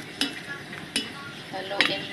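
A utensil stirs pork, mixed vegetables and bihon noodles in a pan, with three sharp scraping knocks spaced over a quiet sizzle.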